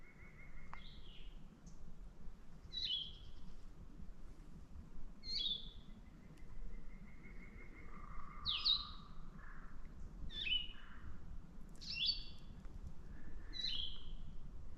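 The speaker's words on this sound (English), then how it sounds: "There's such a variety of birds singing in the mornings." Several bright, short bird calls repeat every second or two over a steady outdoor hush on the Appalachian Trail in the morning, with no voices.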